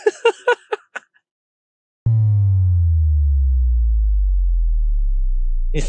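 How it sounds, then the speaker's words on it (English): A sine tone leaps up abruptly, then glides slowly and steadily down in pitch with a gritty, distorted buzz, sounding alone after a few short blips. "I used a sine wave that goes up in pitch and then slowly slides down in pitch."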